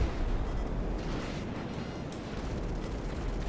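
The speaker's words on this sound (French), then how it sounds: "On va avoir juste des explosions un peu de partout quoi." Continuous rumbling explosions and gunfire-like blasts fill the scene in a GTA V aircraft war at nightfall, a dense, steady low roar with no clear pauses and no talk.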